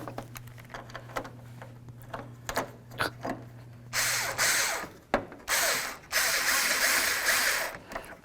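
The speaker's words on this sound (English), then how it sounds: "It's time to get these bolts back in." Bolts being driven back into a reflector on a 1992-99 GMC K1500 pickup, heard first as scattered metallic clicks and taps, then bursts of a power tool running in short stretches, close by.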